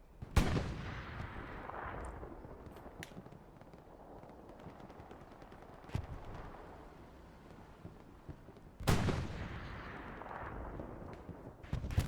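Gunfire in the Hell Let Loose video game: sharp shots at the start, near 6 seconds and a loud cluster around 9 seconds, with sporadic bursts and a constant battlefield rumble throughout.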